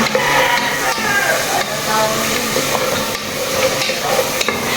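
Fish fries in a pan with a loud, steady sizzle and hiss, and stirring scrapes and clinks come through close by.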